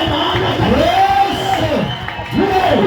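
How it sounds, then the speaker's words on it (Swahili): A church congregation cheers and ululates for Jesus, a loud close crowd with rising and falling trilled wavering cries over a dense wash of shouting and clapping. "Chapia Yesu makofi na vigelegele."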